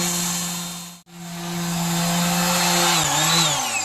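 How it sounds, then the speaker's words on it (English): A rotary sander grinds rust off the metal of a rusty car door jamb, a steady loud whine with a brief cutout near the start and a dip in pitch as it bears down late on. "So let's see if the rotary sander is gonna make it."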